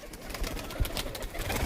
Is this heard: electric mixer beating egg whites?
no